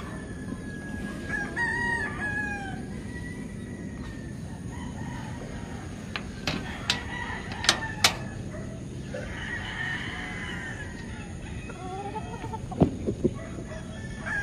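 A rooster crows on a large gamefowl breeding farm in the Philippines, amid a busy outdoor backdrop of other birds and farmyard noise, with several sharp clucks and calls rising above the steady din.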